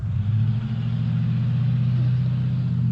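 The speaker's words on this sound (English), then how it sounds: "Is your car loud enough?" A loud car engine idles outside with a deep, steady rumble that stays level and fairly close for the whole stretch.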